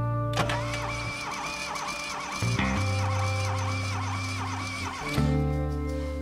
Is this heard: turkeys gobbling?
no